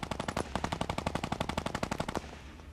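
Rapid bursts of Fortnite gunfire, a steady rattling automatic stream of shots for about two seconds before stopping abruptly.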